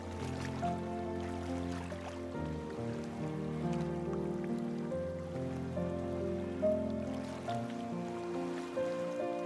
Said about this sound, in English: You've developed quite a grudge against the rain today.